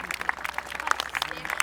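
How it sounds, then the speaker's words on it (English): Audience applause at the Tank Museum on Tiger Day for the Garrison Artillery Volunteers and a 6-pounder anti-tank weapon: scattered outdoor clapping from a crowd, fairly distant and uneven, with a voice speaking over it. "Round of applause for the Garrison Artillery Volunteers and the 6-pounder anti-tank weapon."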